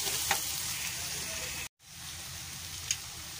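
Crushed ginger frying in hot oil, a dense steady crackling sizzle heard close up, broken by a brief moment of silence midway before resuming.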